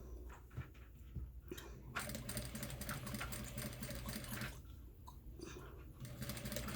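A sewing machine fitted with a wide zipper foot stitches a mesh hem onto a dress in steady close whirring runs, pausing briefly near the middle and end, with no talk.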